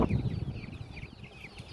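Soft, scattered clucking of chickens near cows, climbing on and pecking at them, over a low rustling background, brief and fairly quiet, in a village at midday.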